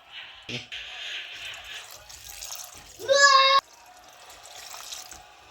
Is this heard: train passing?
no